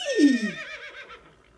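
A horse gives one short whinny that starts high and loud, then falls away into a fading, quavering tail, close by with no other sounds.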